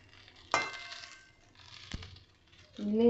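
A spoon stirs fried rice with fried egg, chicken, onion, carrot and capsicum in a pan, making a few short scrapes and clinks with a light sizzle, close by, followed by a brief tonal sound at the end.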